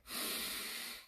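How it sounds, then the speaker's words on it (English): One deep, close breath is drawn in through the nose during a hamstring stretch, a single airy inhale of about a second, heard alone. "you're going to think about taking a big deep breath in here"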